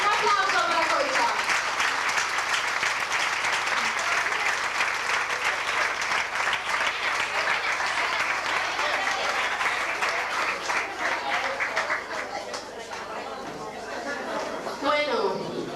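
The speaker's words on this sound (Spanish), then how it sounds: "Un aplauso para Concha." Audience applause at a Valencian falla event, a steady dense clapping that fills nearly the whole stretch before thinning slightly toward the end, with some crowd chatter mixed in.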